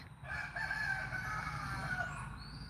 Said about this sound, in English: And you hear that rooster? He's happy.